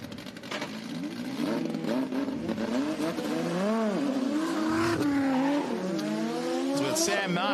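Drift cars revving and accelerating at a Pheasant Wood Circuit drift event, engines rising and falling in pitch with tyre noise, loud and continuous, with a commentator talking over them.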